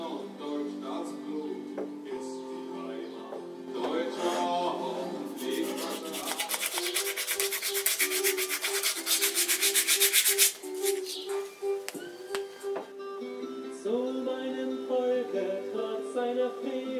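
Glued wooden handles being sanded smooth by hand in a workshop, with rhythmic rubbing strokes that swell in the middle over steady background music.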